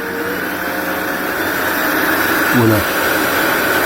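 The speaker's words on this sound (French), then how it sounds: "Mais bon, c'est toujours un peu l'aspirateur." A professional pet grooming clipper and vacuum unit runs at full power with a steady, close mechanical whir and airflow hum, while a voice speaks briefly over it.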